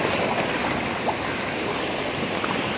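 Morning surf at Colin Beach in Ambon, a steady broadband wash of waves close by, continuous with no distinct breaks and no voices.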